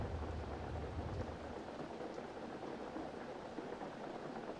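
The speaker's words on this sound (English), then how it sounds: "It's raining, which is nice." Steady rain falls in the video game Overland, making a soft, even hiss of drops with a low rumble underneath, faint and constant with no voices.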